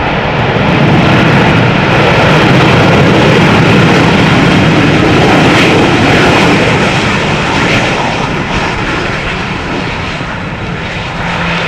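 Airliner engines roar loud and steady at Amsterdam Schiphol Airport in the rain, a sustained broadband rumble that swells and eases slightly over the whole stretch, captured with a rain-covered shotgun mic.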